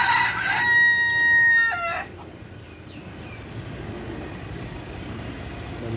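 Chickens at a Lao market crow and cluck loudly for the first two seconds, then fade to a low steady background murmur of market noise.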